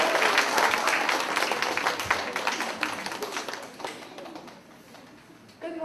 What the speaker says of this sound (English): Please give Kimmy a round of applause.